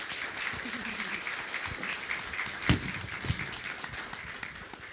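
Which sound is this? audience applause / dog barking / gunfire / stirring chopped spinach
audience applause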